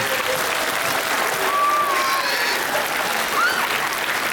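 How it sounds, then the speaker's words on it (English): Steady outdoor applause from a crowd for a high school marching band at a charity walk for diabetes, a dense continuous wash of clapping at even loudness throughout with a couple of faint whistles. "Let's give a huge round of applause for the talented Interboro High School Marching Band"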